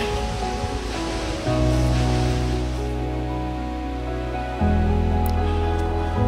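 A powerful waterfall on a trail pours out a dense, loud, continuous roar close by, its level stepping up twice as the position shifts. No one speaks.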